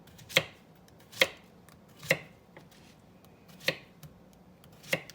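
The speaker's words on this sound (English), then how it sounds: "we're going to start by slicing our zucchini." Knife slicing zucchini on a cutting board, five or six crisp, evenly spaced chops close by with quiet pauses between, no voices.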